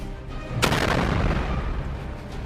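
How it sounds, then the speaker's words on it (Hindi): Houthi missile striking a ship, a sudden heavy blast that erupts out of quiet and rolls into a long, loud rumbling roar. "जैसे ही हूती की मिसाइल जहाज के इस हिस्से पर लगती है, वैसे ही जहाज में जोरदार ब्लास्ट होता है"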